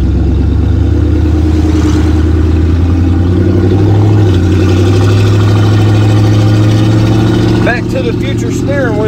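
An old pickup truck engine idles steadily and close by, a low rumbling drone that holds constant throughout, with a brief high squeal or whine near the end.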